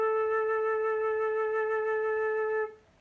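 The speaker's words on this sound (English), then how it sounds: "if I were to play a vibrato on an A right now, it would sound like this." A flute sustains a single A with gentle, even vibrato, a clear bright tone held for nearly three seconds before stopping, close and alone.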